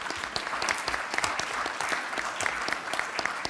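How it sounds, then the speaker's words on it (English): Audience applause at a university town hall on student success, a steady dense patter of many hands clapping close by for the whole stretch, with no talk over it. "I want to stop and clap for a second."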